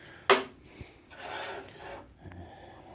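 A stainless steel knife blade is finished on a belt grinder set square to the belt with a bevel jig, heard as a sharp scrape and then softer rasping passes, close and fairly quiet.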